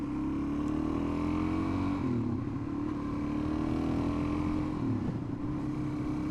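An old, small motorcycle engine runs steadily on an open-road ride after a long lay-up, with a continuous low drone and slight pitch dips near the two- and five-second marks, rushing wind noise above, and no speech.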